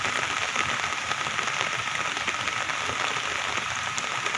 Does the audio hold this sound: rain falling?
yes